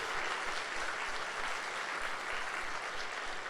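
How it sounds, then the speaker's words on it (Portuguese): A church congregation at a Sunday service claps in a steady, even wash of applause heard at a moderate distance, with no voices on top. "Vamos dar um aplauso a Jesus?"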